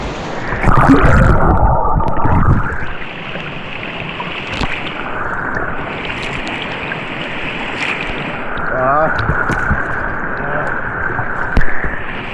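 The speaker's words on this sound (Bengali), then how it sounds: "দেখো কি অবস্থা জলের।" A river rushes steadily and loudly nearby at Bijanbari, Darjeeling, a continuous churning roar with splashes and some indistinct voices mixed in.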